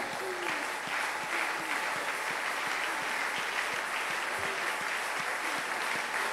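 A church congregation claps hands together in praise, dense sustained applause from a large crowd, steady and fairly loud, with a voice faintly heard beneath.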